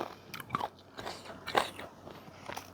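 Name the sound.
biting into crispy young Pim Saen mango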